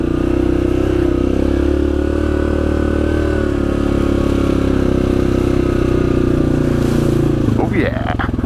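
A Yamaha Grizzly 700 XTR ATV engine drones loud and close on a muddy trail, a steady mid-pitched rumble that holds for most of the ride before a short shift in tone near the end.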